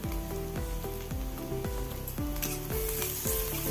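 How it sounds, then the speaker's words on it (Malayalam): Garlic-ginger paste sizzling in hot oil with softened onions in a pan for a jackfruit seed thoran, a steady, close frying hiss that holds throughout beneath background music. "നമുക്ക് വെളുത്തുള്ളി ഇഞ്ചി പേസ്റ്റ് ഒരു കാൽ ടീസ്പൂൺ ചേർത്ത് കൊടുക്കാം"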